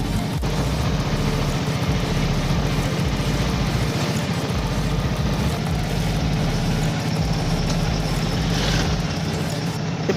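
A 2013 Bajaj RE autorickshaw and a 2014 Bajaj Compact sit idling close by with a steady, low, throbbing engine rumble that stays loud and constant throughout, with no voices over it.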